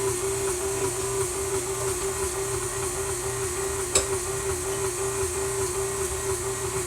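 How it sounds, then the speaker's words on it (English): A Mixmaster stand mixer runs on low, mixing Passover sponge cake batter, with an even mechanical motor whine that holds steady throughout, broken only by a single faint click midway. No one speaks. "So now we're going to do flour and the juice in the mix master. Put it on low."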